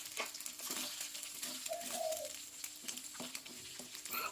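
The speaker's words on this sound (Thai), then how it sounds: "ยีเบา ๆ ครับให้เขาสุกครับ" Two beaten chicken eggs sizzle in a hot pan with garlic as they are gently stirred, steady frying crackle with soft scraping of the utensil, close and continuous.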